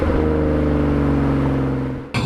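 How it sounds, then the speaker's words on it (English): A BMW E92 325i M Sport fitted with a new Fastlane exhaust drones steadily at high revs, a loud, close, sustained engine note that holds level and then drops away abruptly near the end. "tell me what you think of the new exhaust."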